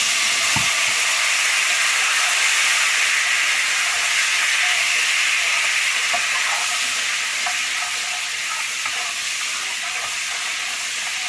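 Wine hits a hot pan of melting butter over low heat, giving a loud, steady broadband sizzle with a few sharp crackles, continuous for the whole stretch with no talking.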